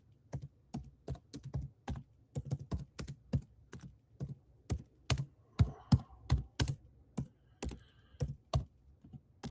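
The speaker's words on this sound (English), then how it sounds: "Sorry, I'm pounding on that keyboard." Someone pounds hard on a computer keyboard in a quiet room, a close, loud run of separate clacking keystrokes in uneven bursts with brief pauses, and no one speaks.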